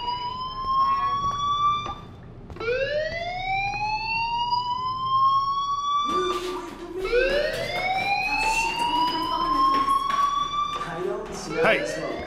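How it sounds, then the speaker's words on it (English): Fire alarm in the video game Life Is Strange wails in long rising siren sweeps, repeating loud and steady for over ten seconds, with a voice speaking over it. "do you hear that fire alarm?"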